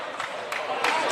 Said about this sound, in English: using that confidence and that noise from the crowd